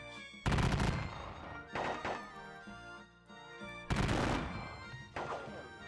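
Musket volleys in a Battle of Gettysburg war game, a few separate booming crashes of massed fire spaced seconds apart, each followed by a rumbling decay, with quieter gaps between.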